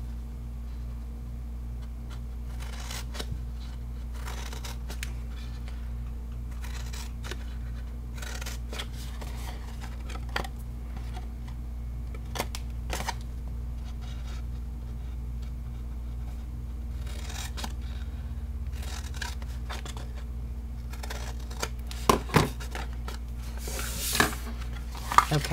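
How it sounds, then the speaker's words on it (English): Scissors snip through paper along scored lines while a box with tabs and an insert flap is being made, giving soft, intermittent close cuts over a low steady background hum. "So I'm just going to cut up all of these lines"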